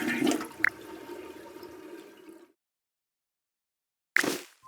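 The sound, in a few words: automatic toilet flushing in a train station bathroom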